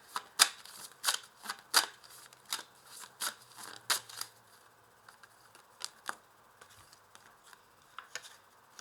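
Tarot cards are shuffled and handled close by, giving a series of crisp riffling snaps and soft slides at an uneven rhythm, each burst short, with quieter gaps between.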